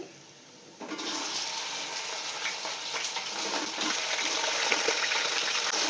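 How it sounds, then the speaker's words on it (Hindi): Beef goes into browned onions in a hot pot for Afghan-style beef pulao. A sudden loud, steady hiss of frying bursts in and keeps going without a break, with no talking. "अब मैं इसमें गोश्त डालूंगी।"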